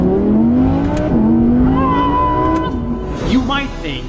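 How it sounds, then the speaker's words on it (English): A Bugatti being drifted, its engine note rising and sweeping in pitch over several seconds with a strained, revving howl, loud and close throughout. "So this is the Bugatti you need in your life if you want to drift it."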